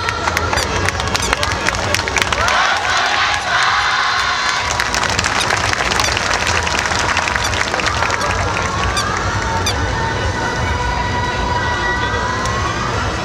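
A large outdoor festival audience at the Domatsuri main stage cheers and applauds loudly for the Osaka City University student dance team, a dense, sustained roar of crowd noise with scattered shouts.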